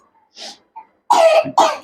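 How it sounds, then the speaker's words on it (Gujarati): A person close by coughs and clears their throat in a few short, harsh bursts separated by brief pauses, the last two louder and heavier. "મારે ઉધરસ"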